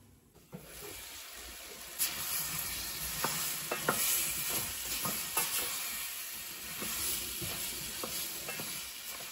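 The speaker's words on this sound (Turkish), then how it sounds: "arada karıştırarak kavuracağım" Chopped celery sautés in a pan, with a steady sizzle and repeated clacks and scrapes as it is stirred now and then. The sound is close and unbroken, and no voices are heard.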